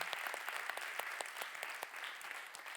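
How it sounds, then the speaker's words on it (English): Steady applause from a crowd, dense clapping that holds at an even level for a few seconds with no voices on top. "So round of applause to you."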